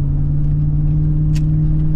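A new car's engine idles steadily with a continuous low rumble and hum, loud and close, with a faint brief rustle partway through and no talking.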